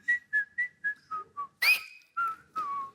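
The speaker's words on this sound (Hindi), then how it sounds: "अपनी फिल्म की सीटी मारी" A person whistles loudly: a run of seven short, bright, evenly spaced notes, then a long rising swoop and two sustained pitch-sliding tones, close and clear with no talking.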